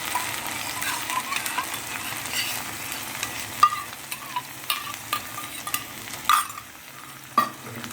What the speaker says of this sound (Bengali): মশলা ভালো করে কষে নিতে হবে কষার পরে দেখুন তেল ছাড়ছে